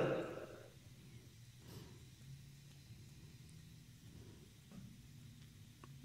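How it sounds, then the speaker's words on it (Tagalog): Heavy rain falls steadily as a faint, continuous wash with low rumbling, and a few soft knocks and muffled sounds sit under it throughout. "Lakas ng ulan."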